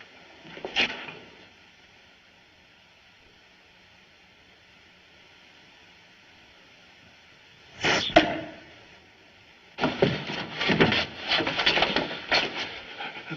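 An arrow strikes wood indoors with a sharp single thud, followed several seconds later by another impact and a burst of scraping, clattering noise, heard without speech.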